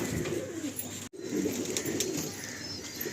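Pigeons bathing together in a loft give off a steady busy bed of soft cooing, wing flutters and splashing, with one brief drop to near silence partway through.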